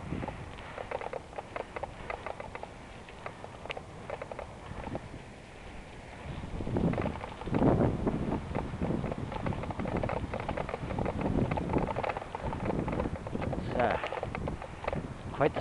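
Wind blowing over open water at a lakeside park, a steady rough rumble of gusts buffeting the microphone, with a voice talking over it.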